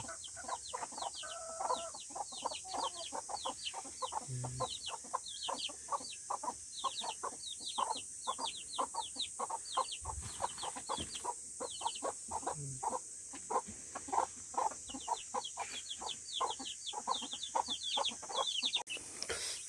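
Chickens and chicks in a backyard coop cluck and peep steadily, with dense overlapping chirps and clucks throughout, close by and with no talking.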